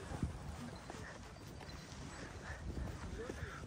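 Horse hooves clip-clopping on ground at Mount Bromo, faint scattered hoof strikes under wind and ambient noise, with people talking nearby.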